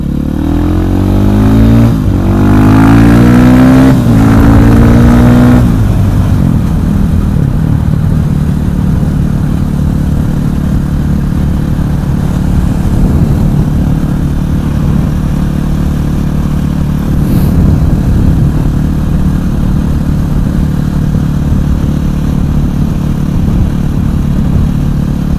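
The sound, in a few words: KTM 500 EXC supermoto motorcycle accelerating from green light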